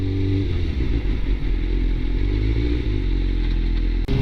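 A Suzuki GSX-R 600 K1 sport motorcycle engine runs close by with a loud, steady, aggressive drone and a brief drop near the end.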